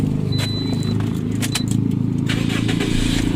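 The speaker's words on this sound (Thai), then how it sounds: "ลองฟังเสียงเครื่องยนต์กัน" Used Toyota Altis car engine running at a steady idle, a low continuous rumble with a few brief clicks and jingles over it, near and fairly loud.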